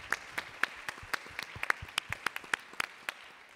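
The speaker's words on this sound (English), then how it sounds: "give a round of applause for the hard work that came into that" A small conference panel audience gives light, scattered applause, individual hand claps distinct and fairly quiet, spread over a few seconds in a large room.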